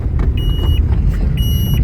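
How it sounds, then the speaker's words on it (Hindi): A Renault Triber car's engine pulls in fifth gear with a steady low rumbling drone, while a thin high electronic beep sounds twice on and off above it. "गाड़ी को डालते हैं 5th गियर में"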